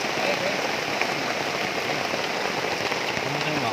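Heavy rain pours steadily on a forest campsite in Kisampang, making a dense, even hiss and patter that stays loud and unbroken throughout.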